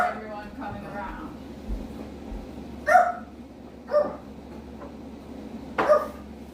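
A pet dog barks a few separate times at firefighters and people arriving during an evacuation, sharp single barks spaced a second or more apart, fairly close, over a low background hum.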